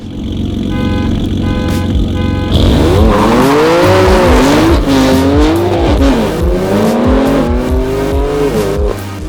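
Loud engines of a BMW F80 M3 and G80 M3 idle, then roar as both launch hard together from a dig, revs climbing through gear changes with tyre noise, very close and powerful.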